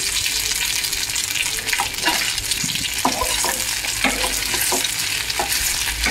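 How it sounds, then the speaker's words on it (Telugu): Goat brain fries with ginger garlic paste in a pan, a steady loud sizzle with scraping stirring strokes and a few wet clicks scattered throughout, close and continuous, no voices. "గోట్ బ్రెయిన్తో పాటు అల్లం వెల్లుల్లి పేస్ట్ కూడా ఫ్రై చేసుకోవాలండి"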